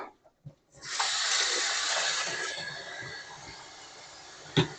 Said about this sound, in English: Let me wash my hands because they're sticky.